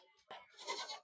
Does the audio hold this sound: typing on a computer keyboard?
no